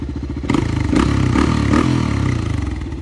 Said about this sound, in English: this thing is still idling great